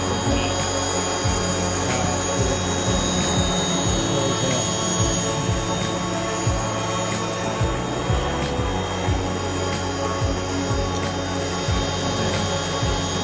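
A DJI Mavic Pro drone hovers steadily, its rotors giving a constant high-pitched electric whine and hum at close range, unbroken and even in loudness throughout with no voices.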